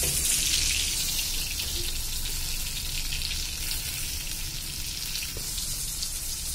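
Onion and garlic sauté in hot oil before chili and coriander powders go in. A steady, moderate sizzle runs throughout with faint stirring underneath, and no one speaks.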